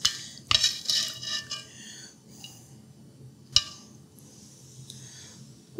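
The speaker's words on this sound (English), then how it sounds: "Let's pile these mashed potatoes up with, whoa, our beef and onions." Braised beef and onions in beer gravy are spooned from a Staub cast iron Dutch oven onto mashed potatoes, with a few sharp metal utensil clinks and scrapes at the start and another mid-way, over a low steady background hum.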